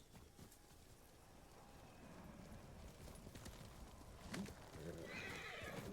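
A horse in the video game Ghost of Tsushima neighs and gallops, its hoofbeats and whinnies quiet under game ambience with a brief sharp burst near the end.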